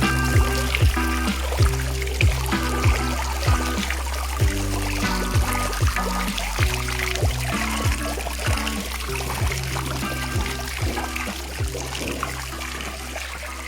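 Water trickles in a monastery cloister in Cantabria, Spain, with repeated bright drips and plinks in a fairly even rhythm over a sustained tonal drone.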